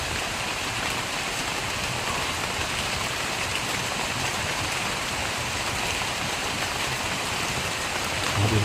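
Heavy rain pours steadily, a dense, constant hiss of water drumming on surfaces with no letup.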